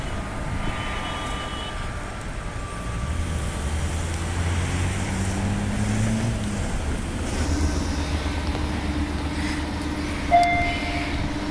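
Perth Midland Line suburban electric train, a two-set consist, running with a sustained low rumble and motor drone that rises and settles, with a brief higher squeal near the end.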